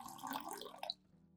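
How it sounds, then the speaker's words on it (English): Clean water poured into a garlic solution to dilute it, a steady close pouring splash that stops abruptly near the end, leaving quiet. "I'll dilute this garlic solution with 500 milliliters of clean water"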